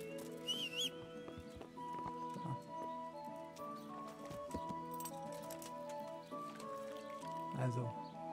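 Horse hooves clip-clop at a steady pace while riding in the medieval game Kingdom Come on Xbox, with a brief whinny and a whistle early on, all under a constant music bed.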